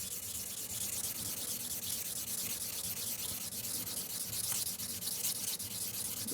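A gemstone is rubbed by hand on sandpaper with twisting, up-and-down strokes, making a steady, faint, continuous gritty scraping with no pauses.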